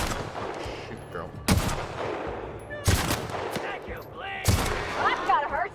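Three sharp, loud gunshots spaced about a second and a half apart ring out in a firefight in The Outer Worlds, set against background game noise and a voice.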